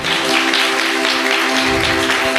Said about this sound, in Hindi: जोरदार ताली बजाइए, ताली बजाइए, ताली बजाइए, और जोर से